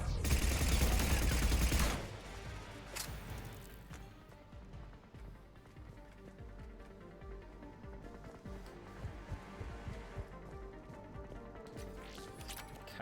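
A rocket strikes the player in Mass Effect 3 on Rannoch, landing as a loud, dense blast for about two seconds that drops to quieter scattered combat noise.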